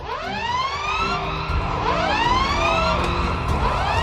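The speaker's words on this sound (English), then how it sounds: "Anna was greeted by the screams of sirens." Several wailing sirens in the video game Valiant Hearts rise and fall continuously, overlapping at close range, with a steady rumble of noise underneath.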